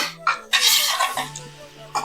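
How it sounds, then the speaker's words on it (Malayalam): Noodles being tossed and mixed with chicken in a pan at home, with a few clattering scrapes of utensil against cookware and a soft background hum. "നമുക്ക് നന്നായിട്ട് രണ്ടും കൂടി മിക്സ് ചെയ്യാം."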